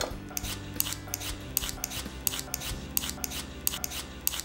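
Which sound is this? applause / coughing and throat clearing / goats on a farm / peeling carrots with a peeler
peeling carrots with a peeler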